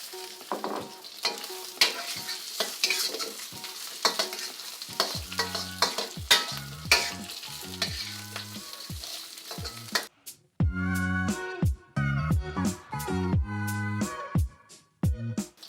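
Shrimp stir-fried in a wok for Malaysian char kway teow, with fish cakes already in the pan: steady sizzling and repeated sharp clanks of the spatula against the wok, growing denser and louder near the end.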